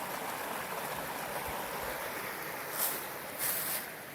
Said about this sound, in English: we have this really gentle sounding water falling along